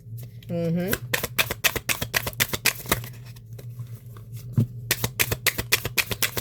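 Tarot cards riffled and shuffled by hand in a rapid run of crisp flicks and snaps, close and fairly loud, with a low steady hum and a brief tonal whistle near the start.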